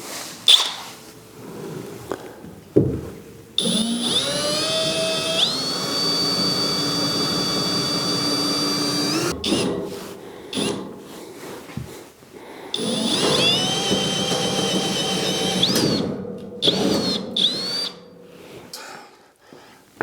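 A power drill bores a hole through a Duramax pickup truck bed, with two long, loud whining bursts whose pitch rises as the bit bites, separated by short pauses and clanks, close up and with no talk.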